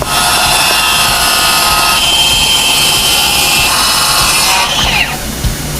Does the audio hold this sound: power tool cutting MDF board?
yes